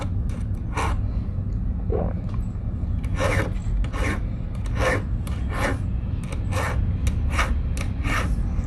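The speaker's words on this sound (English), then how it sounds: "So let's do some file, like take all the big dents and big cuts and everything, just make it all nice and even" Close, loud rasping strokes of a metal file on a cast silver pendant, repeated in an irregular back-and-forth rhythm over a steady low background hum.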